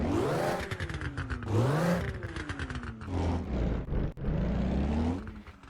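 A car engine in the racing game Live for Speed revs up and down repeatedly, the pitch climbing and falling in a whining, synthetic-sounding roar, loud and close.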